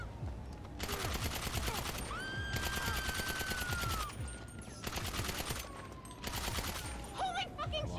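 Bursts of automatic PDW gunfire in Grand Theft Auto V, several long, loud rapid-fire volleys with short gaps between them, a siren wailing underneath, and a voice talking over the shooting.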